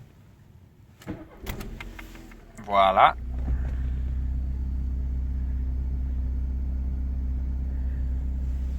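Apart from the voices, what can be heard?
Volkswagen Golf II GTI engine starting warm and idling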